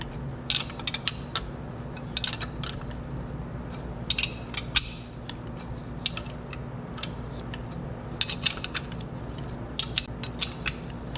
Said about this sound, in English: I usually do this with a gear wrench, make it faster.